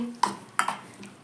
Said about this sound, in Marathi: आणि मिक्स हलवून घ्यायची